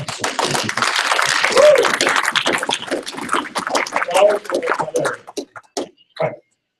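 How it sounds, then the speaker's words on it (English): A scattered burst of clapping from a small class audience, dense at first and then thinning into a few isolated claps before fading out. "applause would be good right now"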